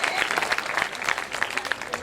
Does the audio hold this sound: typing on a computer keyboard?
no